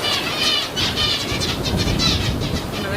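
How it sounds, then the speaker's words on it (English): Finches calling together in a colony, a dense, continuous chatter of overlapping chirps and twitters that stays steady and fairly loud throughout, with a busy rustling background. "Another video of finches displaying them being on branches that are moving around the environment, and also the sound that they're displaying in a colony"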